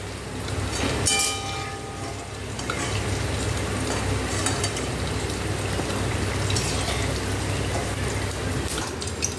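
Potatoes and pointed gourd sizzle steadily in hot oil in a wok, a dense continuous frying hiss with occasional stirring scrapes, close and fairly loud, no voices.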